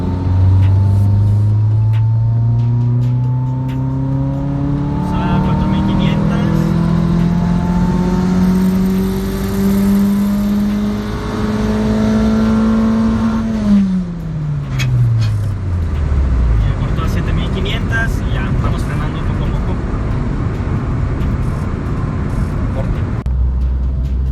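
A turbocharged Mitsubishi Lancer accelerates at full throttle in third gear from low revs, its engine note climbing steadily and loudly to the rev limiter before dropping away, with road noise underneath.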